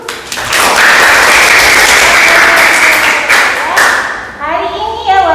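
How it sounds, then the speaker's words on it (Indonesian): Schoolchildren in a classroom clap their hands together in a loud, close burst that lasts several seconds, then breaks off into scattered taps and a voice. "Bagus ya anak-anak, tepuk tangan dulu."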